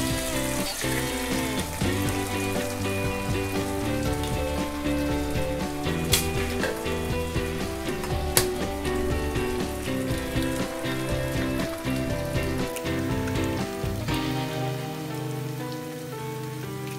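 An egg fries in a hot pan with onion, tomato, curry leaves and green chilli for kothu parotta, giving a dense, steady sizzle and crackle close by, with a couple of sharp clicks of a utensil.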